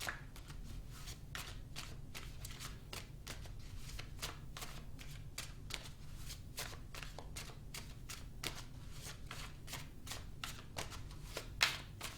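Tarot cards being shuffled and pulled for a monthly reading, a steady run of crisp riffling card flicks repeating close up for the whole stretch, with no talking.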